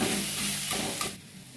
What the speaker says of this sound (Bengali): মশলার সাথে মাছের মাথাগুলো ভালো করে ভেজে নিয়ে ইয়ে করে নিয়ে কষিয়ে নিলাম একটু